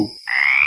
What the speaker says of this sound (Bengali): সন্ধ্যা হওয়ার সাথে সাথে শুরু হয়ে গেল ব্যাঙের ডাক।